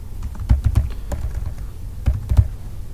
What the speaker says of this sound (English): I'm going to type in your first name